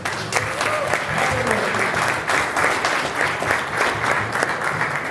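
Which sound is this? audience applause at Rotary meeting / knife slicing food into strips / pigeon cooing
audience applause at Rotary meeting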